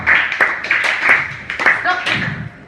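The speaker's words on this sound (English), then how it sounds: "So that's a very slow clap." A slow clap at a comedy night gives a handful of single hand claps spaced widely apart, each sharp and close, with a voice running over and between them.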